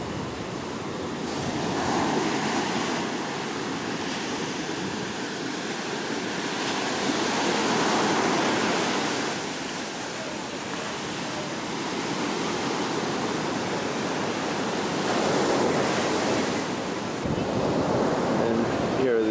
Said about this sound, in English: Size of those waves.